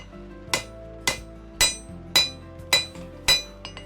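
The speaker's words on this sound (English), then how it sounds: "it takes quite a bit of hammering over and over and over again" Hammer blows ring on metal at a steady, even pace, six bright clanging strikes with a faint hum underneath.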